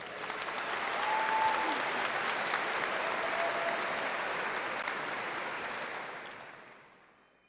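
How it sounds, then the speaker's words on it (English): Audience applause at a graduation ceremony honoring doctoral graduates, a steady crowd clapping that swells, holds for several seconds, then fades out at the end. "Please join me in extending another round of applause for our doctoral graduates."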